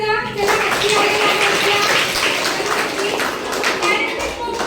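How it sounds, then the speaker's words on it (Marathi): Schoolchildren clap together for a classmate in a classroom, a dense steady burst of applause lasting several seconds with chatter mixed in. "अगदी त्याच्या टाळ्या वाजवा."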